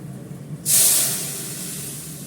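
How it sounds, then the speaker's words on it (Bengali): Arhar dal tipped into a hot pan of cumin and hing sets off a sudden loud hissing sizzle after a quiet start, then eases into a steady, softer sizzle. "এবার অরহর ডালটা দিয়ে দেবো।"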